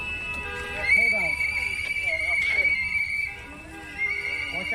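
A shrill, sustained whistle blown at a street protest in Minnesota, piercing and held for several seconds with slight wavering, under people talking nearby.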